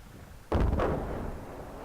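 A single heavy boom from the cannon of an FCM 50t tank in World of Tanks, an abrupt close blast that fades into a long rumbling tail.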